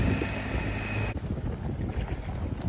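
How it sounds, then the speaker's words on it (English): A small boat engine runs at sea with a low steady drone, mixed with wind buffeting the microphone and water wash. The engine tone drops away partway through and leaves mostly wind and sea noise. "Wee engine's purring like a kitten."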